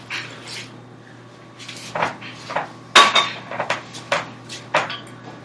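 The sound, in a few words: stirring dough mixture in a bowl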